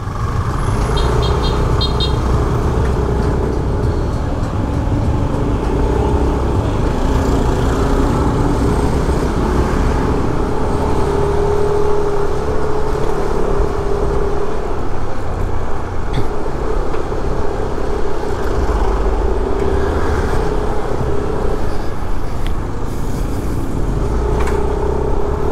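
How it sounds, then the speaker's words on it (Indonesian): Busy, congested traffic on Jalan Legian in Kuta, Bali: cars and motorbikes rumble past continuously nearby, with occasional short horn toots and no voices. "ketemu jalan Legian ya, jalan yang selalu macet di sini"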